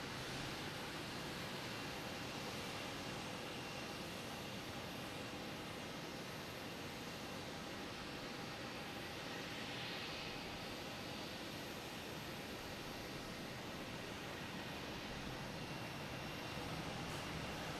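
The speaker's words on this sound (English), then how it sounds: "next coming in is a Cessna Citation Latitude coming from Bar Harbor" A Cessna Citation Latitude business jet arriving at Boston Logan Airport is heard as a faint, steady broadband jet roar held at a distance for the whole stretch, with no talking over it.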